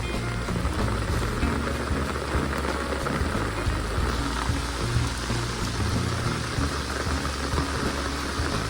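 Steady, heavy rain pours down continuously, a dense hiss of drops hitting surfaces close by, with no voices.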